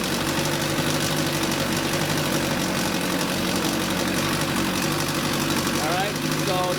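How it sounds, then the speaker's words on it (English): A Mk 55 outboard engine idles steadily in forward gear, a continuous near mechanical drone with a low throb that runs unbroken throughout. "the engine running at idling speed while in forward gear"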